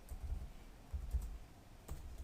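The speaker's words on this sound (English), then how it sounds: "I don't understand why my space bar is getting mashed" Quiet clatter of a computer keyboard, with a few clustered keystrokes and thumps as the space bar is mashed, close and faint, with no talking.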